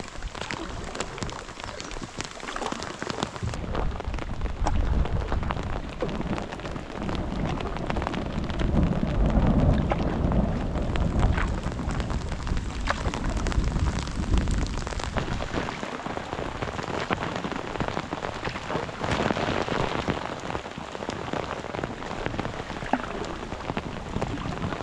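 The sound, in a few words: heavy rain with thunder in a storm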